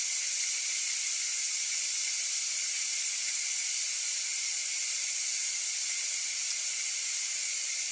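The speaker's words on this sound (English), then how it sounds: "You don't want to touch the pressure cooker until it's completed, until you don't hear the release coming out anymore." Steady, even hiss of steam venting from a Ninja Foodi pressure cooker, continuous and unbroken throughout at moderate level with no talk.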